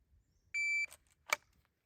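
A shot timer sounds one steady electronic beep of about a third of a second at a shooting drill, followed by a short burst of noise.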